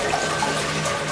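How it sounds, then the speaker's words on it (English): Water rushing and swirling around the bowl of a TOTO Drake dual-flush toilet (CST746 series) during a flush, a brief, steady close-up wash of running water. "All the water comes from around the top of the rim and swirls around the bowl, sweeping it clean."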